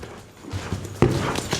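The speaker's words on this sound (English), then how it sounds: "your horse is just cantering around" A horse cantering during a racquet training session, with soft rhythmic hoofbeats on the ground that grow from faint to closer and louder, and a few dull thuds in an uneven run.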